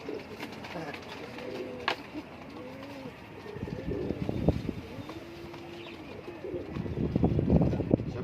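Pigeons coo in soft, repeated rounded calls at moderate distance, with a few sharp chirps and light wind in the background.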